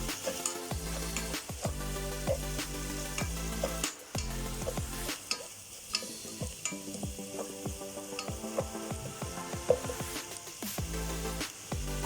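Onions sizzle with a pinch of salt in a pan, a steady close crackle of frying with repeated scraping stirs and light clinks throughout.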